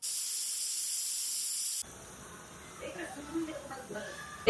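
A pressure cooker cooking chickpeas hisses loudly and steadily, then stops abruptly, leaving quiet kitchen sounds and a few faint clinks.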